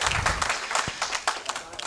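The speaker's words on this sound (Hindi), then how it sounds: "तालियां" Audience applause at a Hindi poetry anthology launch event, a steady wash of many hands clapping for nearly two seconds, moderately loud, with no talk over it.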